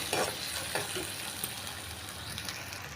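Grated coconut sautés in a pan for a Kerala erissery curry, giving a faint, steady sizzle with soft stirring scrapes throughout, quiet and close with no talking.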